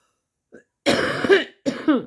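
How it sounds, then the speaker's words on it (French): A couple of rough, hacking coughs close up, a short burst and then a second one after a brief pause. "je tousse comme ça"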